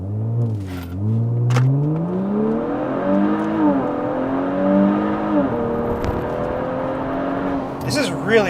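A rear-wheel-drive Kia Stinger GT engine revs up from inside the car, its pitch climbing steadily through acceleration and a gear change, with people talking over the rising drone.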